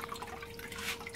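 Water dripping and trickling from an aquaponic bell siphon in a fish tank setup, a steady close patter of drops with a faint constant tonal hum behind it.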